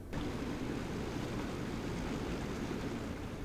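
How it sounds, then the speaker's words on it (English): Hot tub jets running on high, a steady, dense rush of churning water and air that holds at even loudness throughout, with no talking. "turn all the jets on high"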